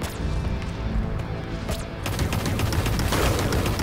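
Assault rifle fire in the PS4 game Dreams, a dense, continuous stream of crackling shots over a rumbling battle mix, growing busier and louder in the second half.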